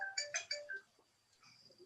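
A phone rings during a quiet public meeting of a city historic landmarks commission: a short run of bright electronic ringtone notes that stops abruptly, leaving faint room noise.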